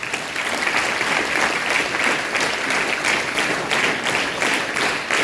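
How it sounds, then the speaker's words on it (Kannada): An audience at a school event at Pearl Public School gives a guest a loud, sustained round of clapping, a dense wash of many hands that stays steady throughout. "ಫಸ್ಟು ನಮ್ಮ ಹಿರೇಮಠ್ ಸರ್ ಅವರಿಗೆ ಒಮ್ಮೆ ಜೋರಾದ ಚಪ್ಪಾಳೆ ಕೊಡಿ"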